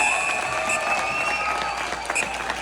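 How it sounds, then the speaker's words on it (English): Audience applause at an equal opportunity dinner greets a guest introduced as Rickey Smiley: a steady wash of clapping from a crowd, fairly loud and continuous for a couple of seconds. "Y'all give a round of applause for none other than Mr."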